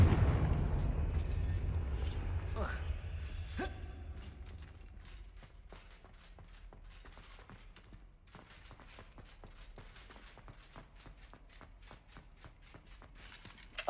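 Confringo fire-spell blasts burst out in Hogwarts Legacy, a couple of heavy whooshing impacts early on, then a rapid run of sharp crackling hits that fade into quieter game ambience.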